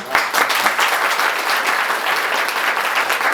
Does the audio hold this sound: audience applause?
yes